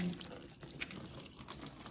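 Water sprayed over a watershed model to mimic rainfall, a faint, steady hiss of fine spray pattering on the surface, continuous and fairly quiet with no talk.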